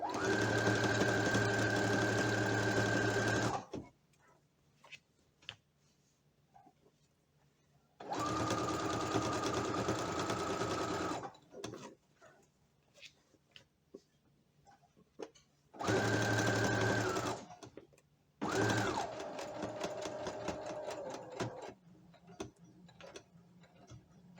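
Sewing machine stitching fabric back and forth in three loud, steady runs of rapid mechanical whirring, separated by quiet gaps with faint clicks and handling noises; a shorter burst slows near the end.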